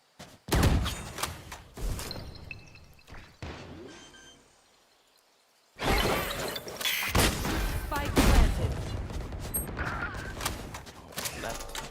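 Bursts of video game gunfire in a Valorant match crack out in loud volleys, broken by a brief quiet gap, with a player's voice talking over parts of the shooting.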